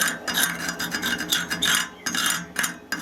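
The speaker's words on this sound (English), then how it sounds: "These die grinders are a great tool, die grinder with a carbide burr in" A die grinder fitted with a carbide burr grinds metal near a MIG weld, producing a close, harsh rasping in repeated strokes that swell and fade without a break.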